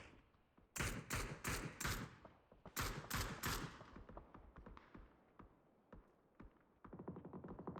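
Automatic gunfire in a PUBG esports league match: several loud, rapid bursts in quick succession, a pause, another cluster of volleys, then scattered quieter shots that fade before a final rattling burst.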